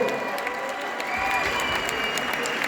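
Steady applause from an MMA event audience after a knockout fills the clip, a dense wash of clapping with some crowd noise, continuous and fairly loud throughout.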